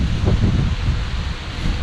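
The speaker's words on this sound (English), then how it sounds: "It's windy too." Strong wind on a river island at Doris Leeper Spruce Creek Preserve buffets the microphone with a continuous low roar and rustle, loud and close throughout.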